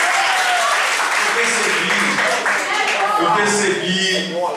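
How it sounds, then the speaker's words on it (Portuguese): Loud audience applause in a hall, continuous dense clapping throughout, with voices and some laughter mixed into the crowd noise. "Palmas!"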